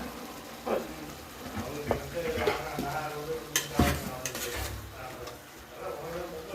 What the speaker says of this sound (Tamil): இப்போ என்னன்னா இது நல்லா வதங்குது, பச்சை வாசனை இப்போ தான் மெதுவாக போக ஆரம்பிக்குது.